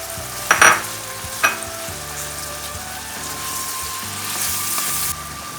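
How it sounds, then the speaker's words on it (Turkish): Tomato and pepper paste sizzles in oil with sautéed onions for cabbage rolls, a steady frying hiss with a couple of sharp utensil knocks near the start and continuous stirring scrapes, no voices. "Soğanlar da kavrulunca içerisine 2 kaşık salça ekliyorum"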